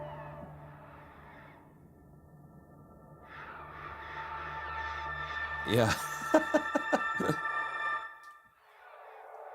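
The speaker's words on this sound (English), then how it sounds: "Yeah, you hear the seagulls." Synthesized seagull-like cries from a Sonic Atoms Baltic Shimmers library patch for HALion, several sharp descending squawks in a quick series, with spoken voices before and after.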